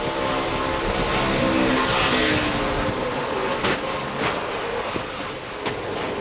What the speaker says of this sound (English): You heard him playing with the throttle even before he got sideways.